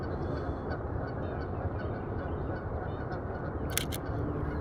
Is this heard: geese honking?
yes